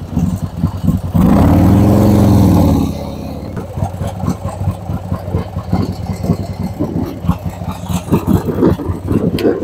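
Harley-Davidson motorcycle engine idling while parking downhill, a loud close rumble that swells in a brief rev, then settles back to a steady, throbbing low idle.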